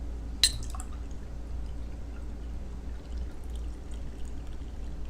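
Water pours into a drink in a glass with a steady trickling splash over a low background hum, preceded by a single sharp clink near the start; no one speaks.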